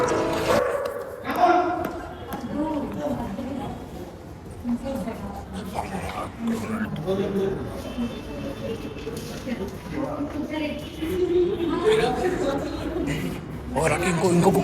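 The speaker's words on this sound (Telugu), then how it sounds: "ఇంకో కుక్క వచ్చిందా?" Dogs bark and yip in short bursts at the start and intermittently afterward, mixed under steady conversation from people nearby.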